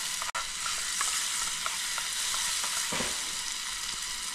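Tomatoes sizzle and fry steadily in a pan over an outdoor wilderness cooking setup, a continuous close crackling hiss with a few faint stirring scrapes and no talking.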